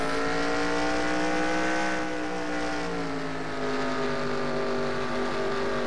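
Race cars circle Bristol together, a dense, loud, continuous roar of layered engines holding near-constant pitch with slight swells.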